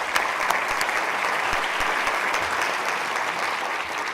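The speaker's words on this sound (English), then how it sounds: "You deserve a round of applause" Sustained, dense applause from a large audience at the North Carolina Main Street awards ceremony, even and continuous throughout with a few sharper claps standing out, no talking over it.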